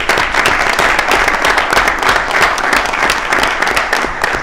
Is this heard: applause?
yes